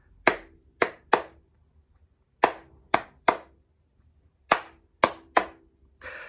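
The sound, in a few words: hands clapping the island calypso strum rhythm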